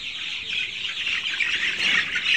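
Young Brown Cock chicks, about a month old, cheep and cluck in a continuous close chorus of high chirping calls throughout.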